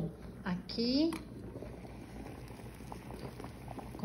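Water simmers and bubbles in a pot on the stove, a steady low gurgling under faint background noise, with a brief clatter or whistle-like sweep near the start.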